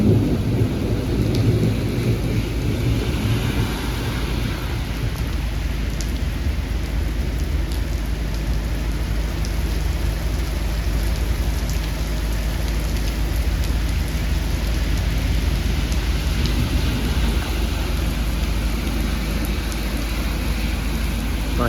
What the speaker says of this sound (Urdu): بہت تیز بارش ہے کربلا معلیٰ میں۔